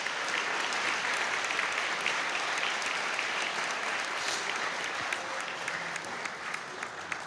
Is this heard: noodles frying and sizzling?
no